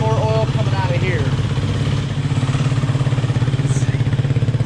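A motorcycle engine idles steadily and close by, warming its oil after a repair, with a constant low, pulsing rumble and no change in speed.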